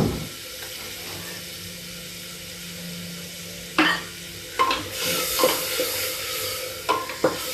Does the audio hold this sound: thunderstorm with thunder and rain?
no